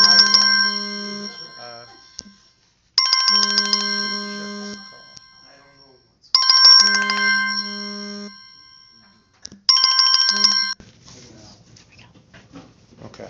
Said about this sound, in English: Looks like the phone is ringing.